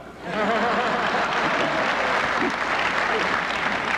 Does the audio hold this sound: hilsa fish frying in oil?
no